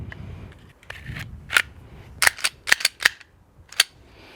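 A Glock 42 pistol fitted with a tungsten guide rod fires on a range, a quiet start followed by about seven sharp shots in an irregular series, close and loud.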